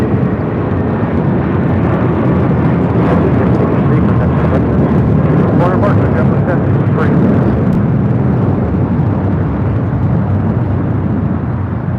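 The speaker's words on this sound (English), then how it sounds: "This is hopelessly devoted to blue, taking off to Puerto Vallarta with JetBlue Airways, 1063 on an A320." A JetBlue Airways A320 taking off at LAX, a loud broad roar of jet engines sustained for the whole stretch with rumble and thrust noise, while a voice talks underneath.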